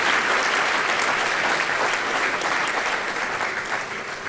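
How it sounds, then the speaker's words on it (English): Steady, loud applause from an audience at a varsity awards ceremony and Hall of Fame induction, a dense clapping that tapers off slightly toward the end. "let's give a round of applause and a heartfelt congratulations"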